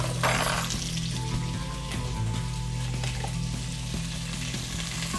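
Crabs sautéing in olive oil in a pan for kekra soup, a steady close sizzle and frying hiss with faint clinks of a utensil and a low hum underneath, continuous throughout without talk.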